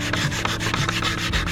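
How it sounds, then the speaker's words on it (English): Abrasive sanding scrubs the back of a stainless steel hinge from a Gemini 3200 boat, stripping old sealant and oxidation in quick, rhythmic back-and-forth strokes, close and steady. "I am sanding the back of my hinge to get everything off of it, all the old sealant, any kind of oxidation."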